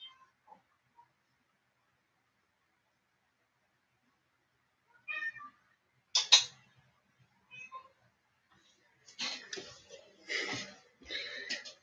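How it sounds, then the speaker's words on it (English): Two house cats fighting indoors, giving a few sharp, strained yowls and hisses in scattered bursts after a quiet stretch, near and moderately loud. "My cats are trying to kill each other."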